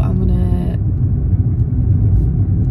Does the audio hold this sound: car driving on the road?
yes